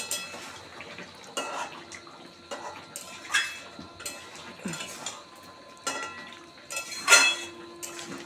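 Fish roe curry is stirred in a pan, a spoon scraping and clinking against the metal in a series of short, separate strokes at close range, with no talk.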